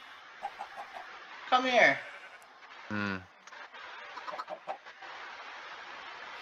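Chickens penned near lava in a Minecraft-style video game give a few short clucks and a squawk, fairly close, amid quiet background and brief speech.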